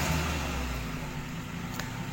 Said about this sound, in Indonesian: agak berisik suara mesin mobil itu lagi dipanasin